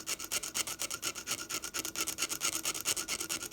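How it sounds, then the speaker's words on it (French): Rapid rhythmic scraping across a Napoleon III 5 centimes coin during restoration, a steady rasping rub repeating several times a second, close and fairly quiet with no voices. "Je vais gratter."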